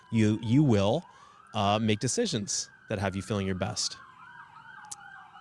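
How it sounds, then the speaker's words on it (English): Emergency vehicle sirens wail outside in Toronto, a wavering tone rising and falling in the background beneath a woman's close speech, then continuing alone at the end. "you can hear the sirens in the background here"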